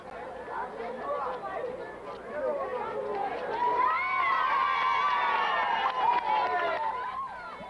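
A crowd gathered outside a building where police and EMS workers surround it, a dense outdoor mass of voices with shouts and cheering that swell louder and more sustained toward the end.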